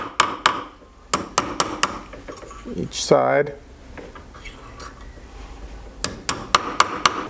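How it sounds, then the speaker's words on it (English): Silver ring being hammered over on a ring die, sharp metallic strikes in quick bursts at the start and end with a pause between, a voice speaking briefly in the middle. "So I'm going to take and hammer it over"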